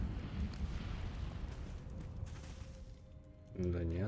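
An Incendio fire spell cast in Hogwarts Legacy, a sustained roaring, crackling burst of flame lasting several seconds at steady loudness, then fading as a voice starts speaking near the end.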